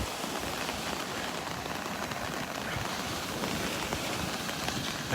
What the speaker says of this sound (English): That rain's backed off a little bit now.